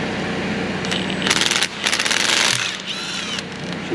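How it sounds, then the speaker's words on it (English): Impact tool rattling bursts undoing a bolt on a 2.5-ton crew cab truck transmission, two loud hammering runs over steady engine and shop background noise, followed by a faint metallic whine. "I'm gonna undo this last bolt."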